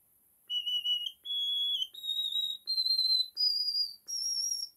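Six short, pure whistling notes from a tiny 1.7 cm homemade ocarina climb a scale one after another, each held briefly with small gaps, clear and close.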